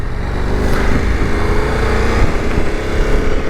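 A 2023 KTM 1290 Super Adventure S motorcycle being ridden, a loud steady engine drone with wind rush, close and continuous, no talking.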